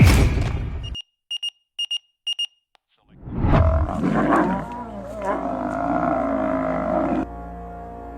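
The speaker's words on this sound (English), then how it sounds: "Lions fight for their life." Fighting lions roar and snarl loudly and close for several seconds. The roaring follows a short burst of electronic beeps and a brief silence.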